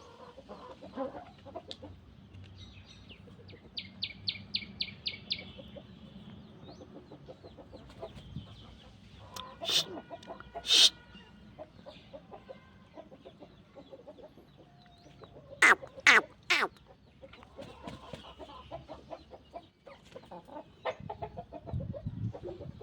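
Hens cluck softly and a rooster joins in around a backyard coop, with scattered bursts of louder squawks and crowing-like calls over a quiet background, fairly close.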